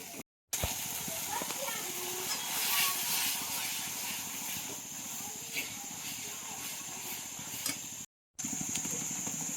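Onion-tomato gravy for a spicy sev bhaji cooking in oil, a soft continuous sizzle and hiss with faint stirring scrapes, briefly cut off at the start and near the end.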